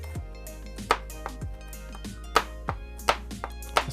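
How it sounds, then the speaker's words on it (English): A Victorinox Fibrox Pro 8-inch chef's knife chopping vegetables such as Brussels sprouts, asparagus and garlic on a cutting board: about eight sharp, close knocks at an uneven pace over a low steady background hum. "Chopping with this knife is pretty good."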